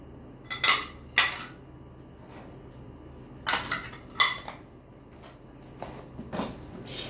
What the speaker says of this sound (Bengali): আর এতে আছে এই যে এরকম দুটো বাটি, এই যে, আর হচ্ছে এরকম দুটো প্লেট।